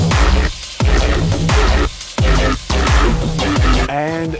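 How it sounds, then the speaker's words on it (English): Arturia MiniFreak six-voice hybrid analog synthesizer playing a punchy rhythmic patch with thumping low hits and bright textures, pausing briefly between phrases and ending on a wobbling tonal tail; no voices. "This is the Arturia Minifreak, a 6-voice hybrid analog synthesizer"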